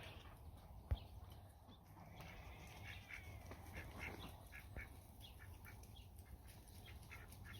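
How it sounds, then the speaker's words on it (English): Ducks on a permaculture homestead garden, several soft quacks repeating in a loose rhythm at a moderate distance, faint against outdoor background noise, with a brief thump near the start. "There's the ducks."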